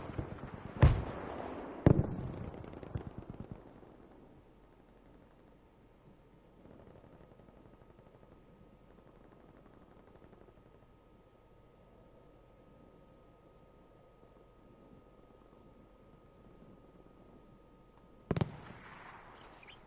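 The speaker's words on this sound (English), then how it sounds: "we've got a lot of Panzers going off and Tommy gun kills exchanging" Video-game battle with Panzer tank explosions and Tommy gun fire: a few sharp booms and cracks burst out at the start, a long faint lull follows, and another loud blast hits near the end.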